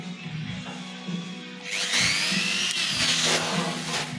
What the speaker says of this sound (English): So I've got this little Ryobi rotary tool.